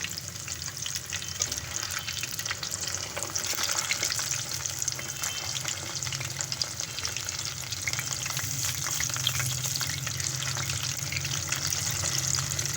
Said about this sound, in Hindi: दूसरी साइड भी अच्छे से फ्राई हो जाए